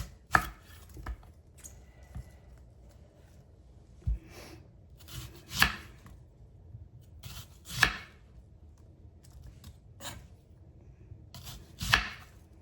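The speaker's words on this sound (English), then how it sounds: "And you're going to cut your onions into rings. Kind of thick." A knife chops sweet onions into thick rings on a board, with about six sharp, separate cuts spaced a second or two apart over quiet kitchen background.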